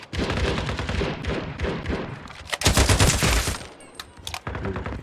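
Loud, rapid automatic gunfire in the video game Sabotaj, dense bursts with a heavier volley in the middle, then sharper scattered shots near the end.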